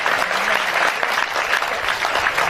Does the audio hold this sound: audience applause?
yes